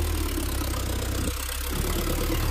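A Sonalika 750 III RX 55HP tractor engine held at full RPM, a steady, loud, continuous drone with a deep low rumble throughout, close by and without speech.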